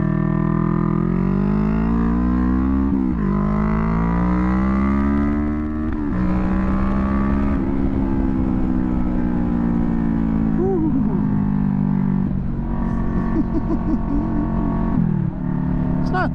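A 2021 Kawasaki Vulcan S cruiser motorcycle engine under way, a loud close drone that rises steadily through the gears, dropping in pitch at each shift and climbing again, with wind rush over it.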